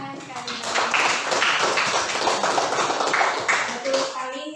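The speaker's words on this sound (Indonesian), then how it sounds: "terima kasih, tepuk tangan sekali" Students in a classroom clap together in a short, steady burst, with voices audible faintly alongside the applause.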